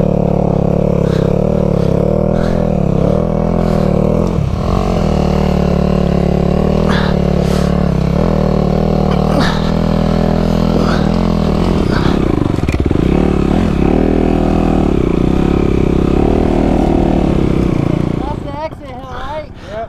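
Honda motorcycle engine running loud and close for most of the stretch while being ridden or pushed up a rough trail, with clattering and scraping, cutting off sharply near the end.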